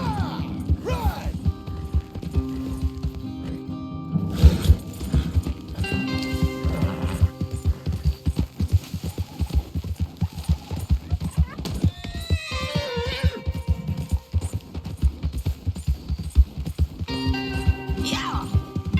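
Horses gallop in Red Dead Redemption 2 with steady clip-clop hoofbeats and a whinny, mixed under game music and shouting voices throughout.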